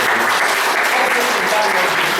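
A church congregation applauding during a worship service, a dense, loud and continuous wash of clapping from many hands that carries through the whole moment without pause.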